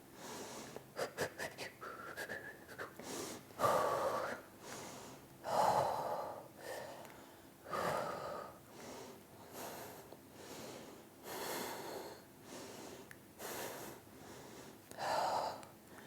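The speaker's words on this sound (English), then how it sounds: "And breathe." Slow, deep breaths during a yoga exercise: several long airy inhales and exhales spaced a couple of seconds apart, close and fairly soft, with a few faint clicks early on and no talking.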